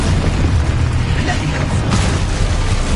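Expulso spell blasts in Hogwarts Legacy, loud booming explosions and crackling bursts packed densely over three seconds, heavy and continuous, with a voice shouting among them.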